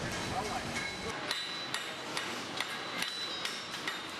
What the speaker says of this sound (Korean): 망치질 소리로 요란한 이곳